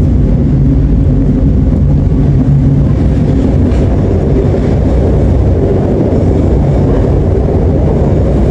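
Inside the Menoreh New Gen passenger train on the Semarang–Jakarta route, a loud, continuous low rumble and rolling rail roar fills the carriage, steady throughout with faint rhythmic clatter and no speech.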